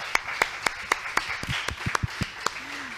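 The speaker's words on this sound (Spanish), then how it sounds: "vamos a aplaudirlo" Audience at an ethnography campus inauguration event claps in a steady burst of applause, sharp close hand claps repeating at an even rhythm and filling the room for a few seconds.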